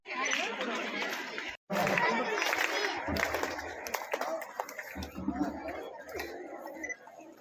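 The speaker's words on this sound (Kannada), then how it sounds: "ಒಮ್ಮೆ ಜೋರಾದ ಚಪ್ಪಾಳೆಯನ್ನು" Applause from an audience at a school felicitation ceremony for SSLC students and teachers rises as a dense, steady clatter of clapping mixed with crowd chatter, fairly close and continuous across the whole stretch.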